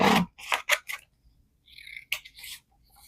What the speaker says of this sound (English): we're just going to cut this out